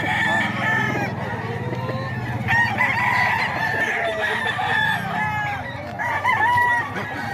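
A rooster crows loudly and repeatedly at close range on a Filipino farm, long strained calls overlapping with clucking fowl, with faint voices in the background.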